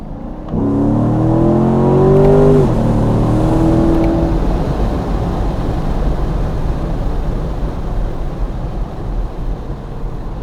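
A 2019 Chevrolet Corvette Stingray C7 1LT engine revs hard and close after a downshift, its pitch rising then dropping back into a steady, loud drone with no talking.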